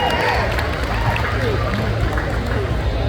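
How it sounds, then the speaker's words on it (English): Crowd applauding a contestant at a pinup pageant during a tattoo expo, loud continuous clapping mixed with cheering and crowd babble throughout. "Round of applause"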